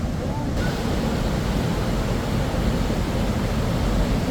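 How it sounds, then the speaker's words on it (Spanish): Waterfall and river rushing through the deep, narrow gorge of Johnston Canyon, a steady, loud broadband roar of churning water that fills the whole clip without a break. "Acá hay un desvío que nos lleva a una cascada."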